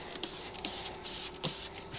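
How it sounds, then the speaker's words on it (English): All-purpose cleaner sprayed onto a car's rubber trim during a wash, with several short hissing spray bursts in a quick, uneven rhythm, close and moderately quiet. "Get some all-purpose cleaner"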